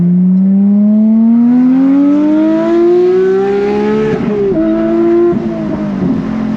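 A Porsche 992 GT3 Touring pulling away, its engine loud and close as it revs up smoothly in one long rising pull, then shifts and settles before climbing again, with no talk.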